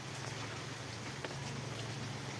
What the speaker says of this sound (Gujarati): અત્યારે હવે વરસાદ ધીમો ધીમો વરસી રહ્યો છે